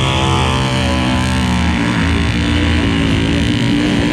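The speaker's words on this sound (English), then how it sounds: "We got a four-seater Honda Talon versus a Razor 1000. Man, this is going to be a close race." Honda Talon four-seater and Razor 1000 side-by-side UTVs mud racing at the Mountain Mayhem 2023 event, engines roaring loud and continuous with harmonic drone throughout.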